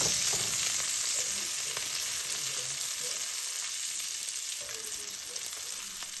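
Pancetta frying and searing in oil in a hot pan, a steady bright sizzle with soft crackles throughout, heard alone and close up.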